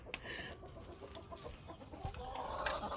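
Chickens clucking in a coop near a door, several short scattered clucks and squawks close by over a busy, rustling background with a few sharper calls near the end.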